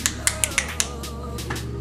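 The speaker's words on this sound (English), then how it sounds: "If at any point you snap your fingers to get my attention" A person snaps their fingers to get someone's attention, giving several sharp, close snaps in an uneven rhythm over a low background hum.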